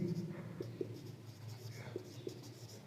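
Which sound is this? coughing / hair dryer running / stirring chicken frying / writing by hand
writing by hand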